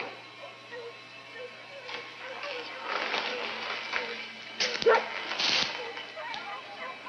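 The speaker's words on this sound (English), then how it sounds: "One dog." A single dog barking at a distance in a 1960s horror film scene, faint and intermittent yips over a low murmur of background sound.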